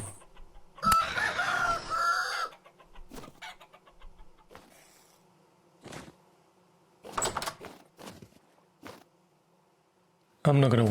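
Chicken clucks and a rooster crow in the survival game Vintage Story, arriving as scattered short bursts over a quiet ambient background, with some game effects and faint speech mixed in.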